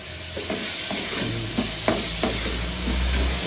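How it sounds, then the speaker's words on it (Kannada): Tomatoes frying in a pan for dal khichdi give a steady hissing sizzle with occasional spatula scrapes and stirring knocks, fairly loud and close, with no talking. "ಟೊಮೆಟೊ ಹಾಕಿದ್ದೀನಿ ಫ್ರೈ ಆಗಲಿ"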